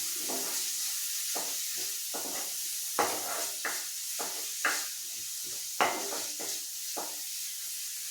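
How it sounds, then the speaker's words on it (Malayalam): Onions sautéed in a pan for rava chicken biryani, a low hissing sizzle punctuated by repeated scraping strokes of a spoon stirring, with a few sharper clinks against the pan. "ഇനി ഇത് നന്നായിട്ടൊന്ന് വഴറ്റി വഴറ്റി കൊടുക്കണം"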